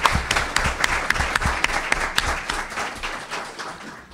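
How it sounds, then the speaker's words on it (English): An audience at an evening panel on constitutional law applauds the panelists, with dense sustained clapping close by that tapers off toward the end. "let's give a round of applause to the terrific panelists tonight"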